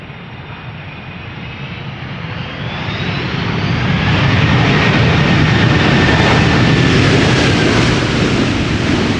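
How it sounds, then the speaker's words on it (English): An Airbus A330 airliner roars past at Schiphol Airport, its engine noise swelling over the first few seconds into a loud, sustained rumble with a rising whine, no voices present. "Captain Wheelie seems to have made promotion to the A330 league"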